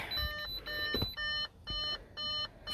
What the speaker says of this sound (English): Oh, shut up with this beeping.